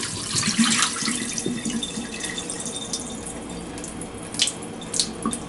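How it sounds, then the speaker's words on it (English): Soaking water is poured off a bowl of rice into a sink, a steady running splash with louder gushes at the start and a few spattering drips near the end, close and continuous. "we're actually going to pour the water off it's been soaking"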